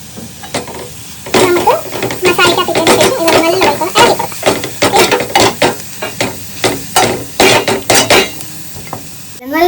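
Squid roast being stirred in a pan, with repeated scraping and clinking strokes over a steady sizzle, loud and close, with brief voices now and then.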